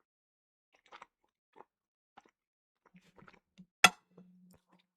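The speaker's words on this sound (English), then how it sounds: "tell me if the chewing's too loud" Quiet, close-up chewing and biting of food, with scattered soft crunches and clicks and one sharp louder crunch near the middle, heard alone without talk.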